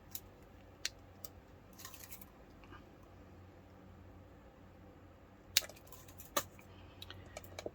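Wire is snipped into lengths for earrings with a few sharp, close clicks of cutters, spaced apart over a quiet, faint background.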